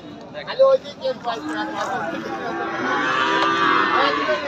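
A heifer at a livestock market lets out a few close, drawn-out moos while people talk nearby and a busy crowd murmurs behind.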